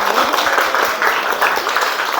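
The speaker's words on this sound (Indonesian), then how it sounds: "Tepuk tangan." A burst of classroom applause, many hands clapping together in a steady, loud wash that fills the room for a couple of seconds.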